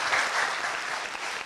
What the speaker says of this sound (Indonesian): Tepuk tangan sekali lagi buat Randika Jamil.